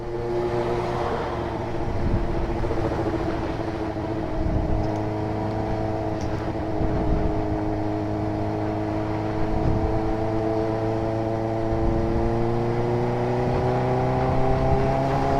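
A motorcycle lane splitting through traffic, heard as a steady engine drone with a rising, whirring pitch held close and loud throughout, with no talking.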